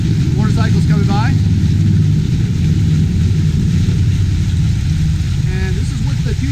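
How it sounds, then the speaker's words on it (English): Motorcycles rumble past outdoors at the VFW Department of Washington convention near Puget Sound Naval Shipyard, a loud, low engine drone that persists throughout while voices talk over it. "Motorcycles coming by."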